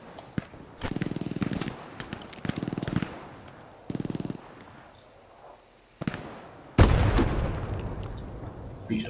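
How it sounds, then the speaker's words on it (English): A grenade blast in the World War II shooter Hell Let Loose on Hill 400: several sharp bangs and bursts of gunfire, then one loud, close explosion with a long rumbling tail. Occasional voices are heard. "Just to be sure, I'm just gonna check him with a grenade."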